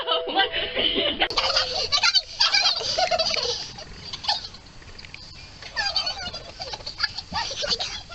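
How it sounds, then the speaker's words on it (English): Chicken clucking and squawking in a noisy, chaotic scene, the bird calls mixed in with shouting and laughter from several people throughout. "Oh my god, there's a chicken underneath!"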